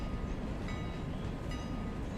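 Train pulling into Ella station in the Railroader game, a steady loud rumble of rolling wheels and rail noise throughout with faint tonal squeals, no talk.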